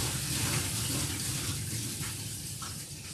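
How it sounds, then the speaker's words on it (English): Water pours steadily down onto a model train layout like a bucket dumped out, a constant rushing splash that fades slightly toward the end. "I don't like that the water comes down right there."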